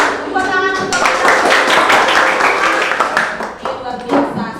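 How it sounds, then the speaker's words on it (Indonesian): Schoolchildren clapping their hands together in a classroom, loud, close and dense, with a brief burst of quicker clapping near the end. "Tepuk tangan untuk kita."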